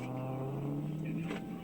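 A stolen police patrol car with its siren on drives off and accelerates, a steady engine drone rising slightly in pitch with a siren-like wail over it, heard alone at moderate volume.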